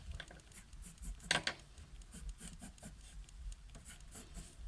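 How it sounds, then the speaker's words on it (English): A pencil sketches a box on paper with soft, scratchy strokes, marked by one brief, sharper scribble early on; the sound is quiet and close, with no one talking. "I'm going to sketch a box"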